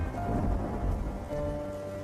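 Steady rain pours down in a cold-weather downpour, a dense continuous hiss with low rumbling underneath, loud and close throughout.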